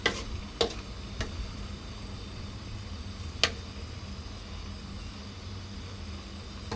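Chicken offal dry-frying in a pan makes a faint, steady hiss, broken by a few sharp clicks from a spatula knocking the pan.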